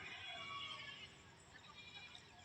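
Goats bleat faintly in a wide open grazing area in Consolacion, Cebu, where cattle also roam. A quavering call drifts from a distance, then quiet, and a sharp click closes the moment.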